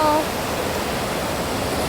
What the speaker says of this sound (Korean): 물소리도 지금 되게 잘 들려서 쭉 가보도록 할게요